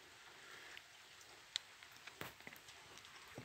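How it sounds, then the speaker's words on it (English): Steady light rain patters at night, soft and continuous, with scattered sharper drops standing out now and then. "It's raining"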